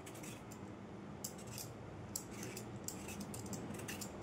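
Raw green mango skin is scraped off with a peeler in quick, repeated strokes, each a short crisp rasp, over a low steady background with no talking.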